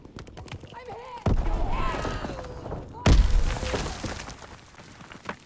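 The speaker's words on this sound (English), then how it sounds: "Instead of actually fighting, just keep throwing grenades." Two heavy grenade explosions in Call of Duty WW2, each a sudden loud boom with a lingering rumble, a couple of seconds apart, with someone talking over the battle.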